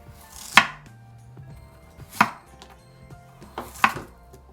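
A knife cuts radish on a cutting board at an angle, three distinct, firm chops spaced about a second and a half apart, close and crisp with quiet pauses between.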